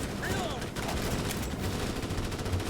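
Rapid automatic gunfire in Starship Troopers: Extermination, a steady dense rattle of shots throughout, fairly quiet and mixed with battle noise while someone talks excitedly over it.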